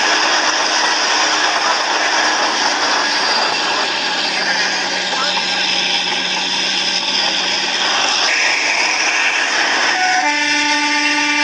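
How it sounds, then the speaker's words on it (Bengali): Kalka–Shimla narrow-gauge toy train, the Shivalik Express, heard from on board as it pulls away at dawn: a loud continuous rumble and rattle of the carriages, with a tonal horn-like drone near the end and voices talking underneath. "ট্রেন চলা শুরু হয়ে গেছে, আমাদের ট্রেন ছেড়ে দিয়েছে।"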